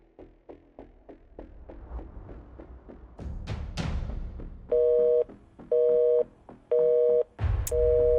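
Telephone handset sounds: a run of soft dialing clicks and tones, then a repeated busy signal of four evenly spaced loud beeps as a call fails to connect.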